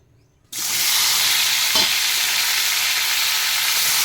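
Chopped tomatoes and onions hit hot oil in a wok and are stirred, a sudden loud sizzle bursting in after brief quiet and hissing steadily to the end, with one faint stirring scrape.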